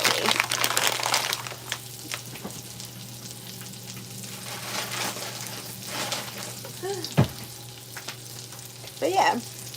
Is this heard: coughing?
no